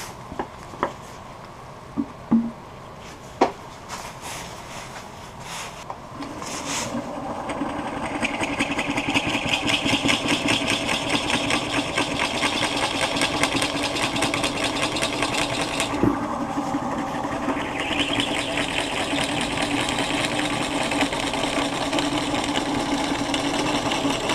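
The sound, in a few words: drill enlarging a hole with a Forstner bit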